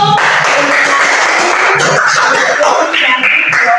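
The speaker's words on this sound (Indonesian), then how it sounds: "Tepuk tangan dulu." Schoolchildren clap together in a classroom, a loud, close burst of mixed hand claps that keeps going unevenly for a few seconds, with a few voices murmuring in the background.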